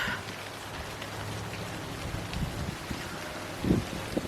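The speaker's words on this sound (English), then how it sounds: "Oh, it's starting to really come down." Heavy monsoon rain pouring down outdoors near a tree, a steady dense hiss of drops with a low rumble underneath and a brief louder patter near the end.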